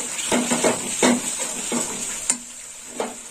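Green jackfruit curry spiced with ground carom paste sizzles as it is sautéed in a pan, with a bright frying hiss and a few distinct scrapes and knocks of the spoon stirring it, and no voices.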